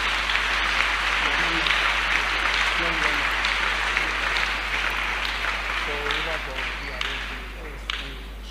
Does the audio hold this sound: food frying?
no